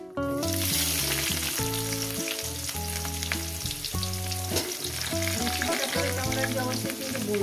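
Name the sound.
chopped onions frying in pan for mutton curry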